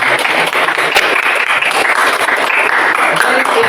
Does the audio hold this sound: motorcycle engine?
no